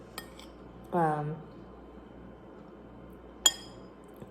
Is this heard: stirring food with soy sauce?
yes